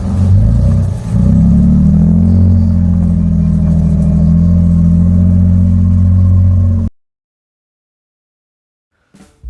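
Raspy exhaust of a 2024 Toyota Sequoia TRD Pro with a V6, a loud, close, steady rumbling drone that revs briefly at the start, then cuts off abruptly into silence.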